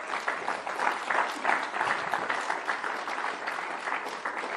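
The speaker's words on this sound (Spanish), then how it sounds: "¿Por qué no le damos un aplauso al Señor," A church congregation at Iglesia Roca Eterna in San Marcos, Texas applauds during a sermon, a steady, moderately distant wash of many hands clapping that holds evenly for several seconds without talk.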